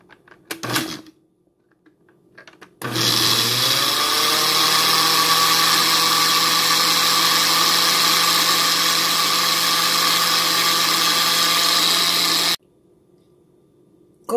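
A blender whirs through potato juice, grated soap and vitamin E oil, starting abruptly and holding a loud, steady high-pitched motor drone for about ten seconds before cutting off sharply, with no talking.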